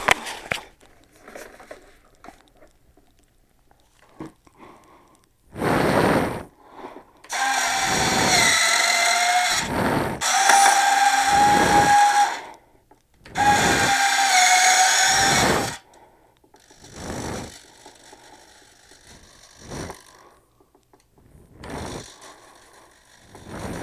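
Retractable landing gear on a Freewing F-15 Eagle 90mm EDF model jet, with several loud whirring servo-driven runs of gear motors in separate bursts, each a few seconds long, followed by fainter mechanical whirs.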